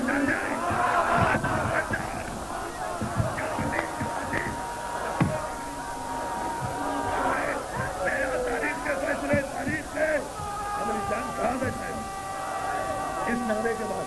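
A crowd of mourners at a 1995 religious gathering raises a loud, sustained collective chant, rising and falling in waves of massed voices that fill the space for its whole length.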